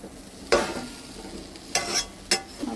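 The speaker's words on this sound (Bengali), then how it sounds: "ভালো করে নেড়ে পুর বানিয়ে নেব" A spoon stirs a chal kumra (ash gourd) filling cooking in mustard oil in a pan, making a few separate scraping, sizzling strokes that stand out over a quiet background hiss, close and moderately loud, with no talking.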